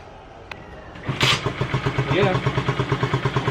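A Yamaha SZR motorcycle engine kick-starts with no battery, then settles into a steady, rapid idle putter, close by, after repair of a crankshaft fault, with a brief voice before it starts.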